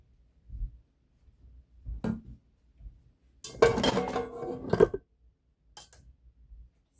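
A pan is grabbed in a home kitchen, with scattered knocks of cookware and then a longer clattering burst of pots and pans in the middle, followed by a few more light clinks.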